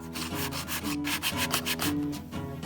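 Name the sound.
sanding a dried cardboard hammer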